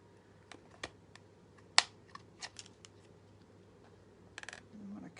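Scissors snip through a thick material in a few quiet, sharp cuts spaced irregularly over several seconds, close and faint with small handling noises between them.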